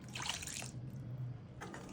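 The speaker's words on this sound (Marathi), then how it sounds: "बघा मी हे थोडासा पाणी टाकते" A small splash of water trickles into thick kulith (horse gram) flour batter in a kadhai, two short bursts of pouring and dripping, close and fairly soft, with no voices.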